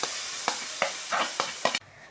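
Crushed shallots go into hot oil with tomato puree in a pan for chicken curry, giving a continuous sizzle with several sharp scraping stirs. The sound cuts off abruptly near the end.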